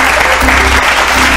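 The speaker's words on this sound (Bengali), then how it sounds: "জোরে হাততালি" Loud audience applause on a Bengali family game show, a dense, even burst of clapping close up and filling the whole short stretch without a break.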